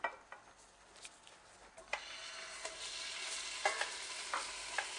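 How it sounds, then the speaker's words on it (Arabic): Meat sautéing in a small spoonful of olive or corn oil in a pot, a steady sizzle with occasional sharp clinks and scrapes of stirring, moderately close. "هشوح اللحم بهالطريقة فقط لغاية ما يتغير لونه"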